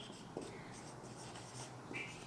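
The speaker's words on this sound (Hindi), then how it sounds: "इस समीकरण को आव्यूह रूप में लिखेंगे।" A pen or marker writes an equation in matrix form during a maths lesson on linear equations, giving faint, steady scratchy strokes with a few short taps throughout.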